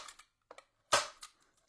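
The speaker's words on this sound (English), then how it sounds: "I like to give it 2 or 3 staples to make sure it's not going anywhere." Beige pipe cleaner being stapled onto a sweet tea wreath sign, with one loud sharp stapler snap in the middle and several softer clicks before and after, close up.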